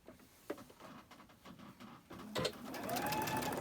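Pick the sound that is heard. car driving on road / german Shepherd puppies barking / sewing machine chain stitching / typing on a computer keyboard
sewing machine chain stitching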